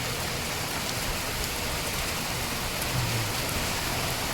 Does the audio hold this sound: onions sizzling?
no